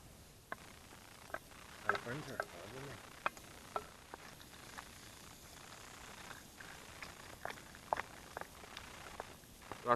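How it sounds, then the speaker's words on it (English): Quiet crackling and popping from sausage frying in a makeshift pan at an overnight camp, with scattered sharp sizzles and ticks over a steady low hiss. "sausage is frying away"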